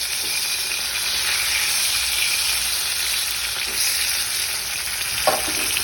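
Boras (fritters) fry in a pan of hot oil with a steady, close sizzle and crackle that holds evenly throughout, with a faint clink near the end.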